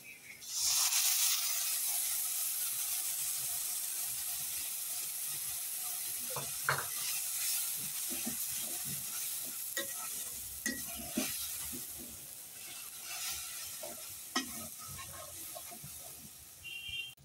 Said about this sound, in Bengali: মানে সেই পেস্টটা ভাজা ভাজা হয়েছে, বাদামি কালার হয়েছে, এখন পেস্টটা দিয়ে দিব।